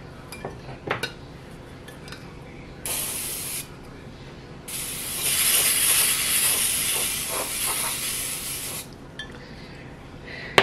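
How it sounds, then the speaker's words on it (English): Cooking spray hisses from an aerosol can into small ramekins in a home kitchen, several short bursts and then one long sustained spray, with light clinks of dishes and no talking. "I'm just going to go ahead and spray the ramekin."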